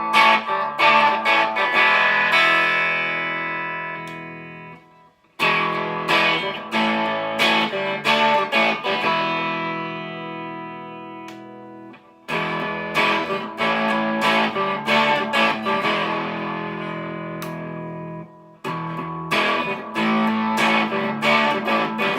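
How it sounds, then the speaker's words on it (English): Electric guitar played through a Lawrence Petross Saguaro Boost pedal with a touch of Earthquaker echo rings out in bright, driven strummed chords and sustained phrases, with brief pauses between passages and no talking. "Let's put on the Lawrence Petross Saguaro Boost."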